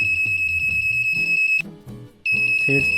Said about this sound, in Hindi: इस रास्ते वो जैसे ही सामने आएगा तो हमारा बजर बजना चालू हो जाएगा।